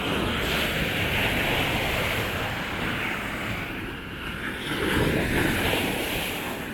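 Ocean waves breaking on Sosua beach, a loud, continuous roar of surf with gusty wind buffeting the microphone and a swell of rushing water near the end.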